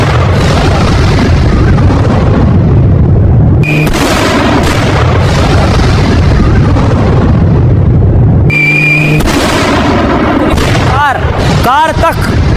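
Loud, dense blasts and booming rumble from an Israeli strike on Iran roll on continuously, broken by brief cuts, with sharp crackling bursts near the end.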